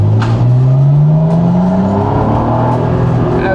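An Acura NSX sports car engine revs up while driving, its tone climbing steadily then settling into a loud sustained drone heard close from inside the car.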